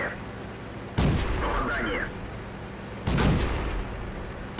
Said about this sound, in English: Shell bounce.